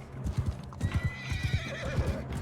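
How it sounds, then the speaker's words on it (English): Horse whinnying and hoofbeats in Mount & Blade II: Bannerlord combat, a rapid run of clip-clopping steps with a bright neigh stretched across the second half, loud and close with no talk. "Tried to smash the horse a little bit."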